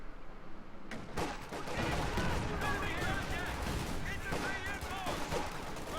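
Fusilier infantry squads in Company of Heroes 2 fire their rifles at range from behind heavy cover, a dense, continuous crackle of overlapping gunshots and battle noise, with a voice talking over it.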